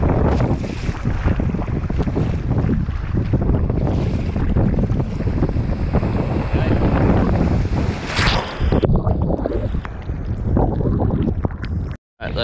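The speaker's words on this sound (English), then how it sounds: "Let's see what the wind's got for us." Steady wind buffets the microphone while waves wash and slap around a sea kayak off Kangaroo Island, loud and continuous with no voices.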